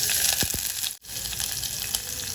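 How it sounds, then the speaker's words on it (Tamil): Onion and bay leaf sizzle in hot oil inside a pressure cooker for Andhra-style chicken biryani: a steady, close frying hiss with a couple of low clunks early on and a brief dropout midway. "இப்போ நம்ம இந்த வெங்காயத்தை நல்லா வதக்கி எடுத்துக்கலாங்க"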